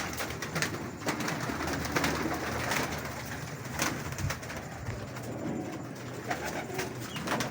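Pigeons coo repeatedly over a steady outdoor background, with soft fluttering and scattered bird calls nearby.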